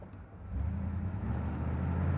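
A 1988 Camaro IROC-Z cruising, heard as a low, steady engine and road drone from inside the car, quiet at first and then slightly louder.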